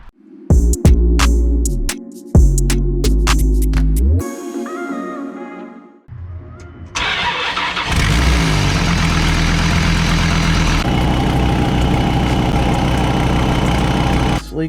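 A 2001 Dodge Ram 2500 V10 pickup, just back from an exhaust manifold repair, cranks and starts, then settles into a loud, steady, close idle with a deep rumbling hum after a few clicks and knocks.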